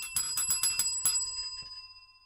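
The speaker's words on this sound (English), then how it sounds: "You just go to town on that bell." A bicycle-style bell rung rapidly about eight times in a quick burst, close and bright, its ringing tone lingering and fading after the last strike, with no voices over it.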